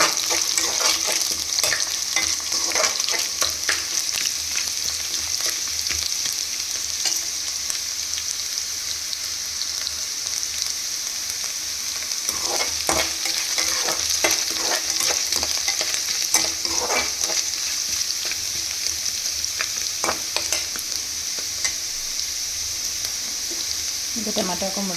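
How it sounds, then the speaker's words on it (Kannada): Onions and tomato sizzle and fry in a pan while being stirred, a steady crackling hiss with repeated scraping stir strokes, close and loud, with no talk over it. "ಅದು ನೀರಿದ್ದಾಗ ಆ ಥರ ಸೌಂಡ್ ಬರುತ್ತೆ, ಸ್ವಲ್ಪ ಚಿಟ ಚಿಟ ಅನ್ನುತ್ತೆ"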